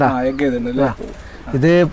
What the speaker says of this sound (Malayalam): ഇതിപ്പോ ഞാൻ എടുത്ത പ്രാവാണ്